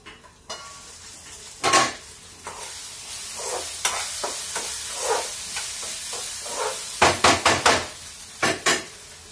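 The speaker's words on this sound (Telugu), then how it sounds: "దీంట్లోకి టమాటాలు వేస్తున్నాను అనమాట." Tomatoes tipped into a frying pan and stirred, giving a loud sizzling burst followed by repeated scraping strokes of a spoon against the pan, close up, with a cluster of sharper clatters near the end and no talk.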